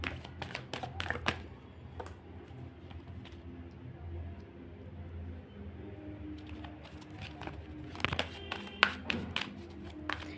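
Tarot cards are shuffled and drawn by hand in a quiet room, with soft riffling, slaps and taps in bursts at the start and again near the end, and low murmuring between.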